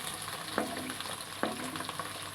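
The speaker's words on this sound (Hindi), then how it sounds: "तो अब हम थोड़ा सा ये प्याज, ये शिमला मिर्च डाल देंगे" Onion and capsicum frying in hot oil, a constant close sizzle broken by two sharp spatula scrapes against the pan, with no voices.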